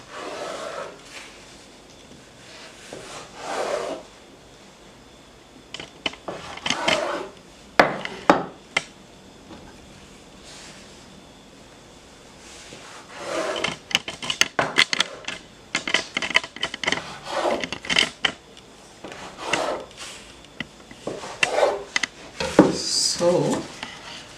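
A knife cuts rolled cinnamon roll dough on a board at home, making irregular soft thuds and taps that come in clusters with quiet gaps between them, close by.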